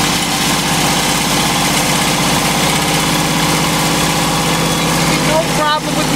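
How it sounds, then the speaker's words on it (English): A 2006 Kawasaki Mule 3010 utility vehicle engine idles steadily and close, a constant loud drone with an even mechanical throb. A brief dip comes near the end. "The engine is idling fine, no knocks, no pings."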